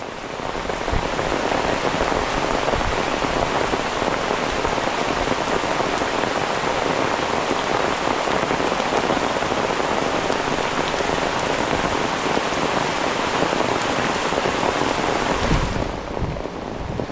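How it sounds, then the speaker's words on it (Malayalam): Heavy rain pours down steadily and densely, a loud continuous roar of drops on surfaces that holds constant before easing slightly at the very end. "മൊത്തം മഴ കേട്ടോ ഒരു രക്ഷയില്ല"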